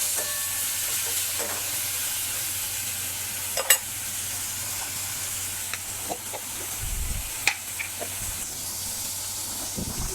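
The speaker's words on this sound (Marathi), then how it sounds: "आता आपण टोमॅटो घालूया। टोमॅटो चांगला मिक्स करूया।" Tomatoes frying and sizzling in a pan for shevgyachi bhaji, with a steady hiss of cooking and a few short scrapes and clinks of a spoon stirring through the 10 seconds, fairly quiet and with no talking.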